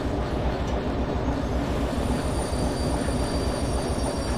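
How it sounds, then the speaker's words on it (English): A locomotive slows in the snow under its loco brake in the Derail Valley train game, with a steady loud rumble of rolling wheels and a thin high squeal of brakes throughout. "Just using the loco brake at the moment because I want to go in a little further"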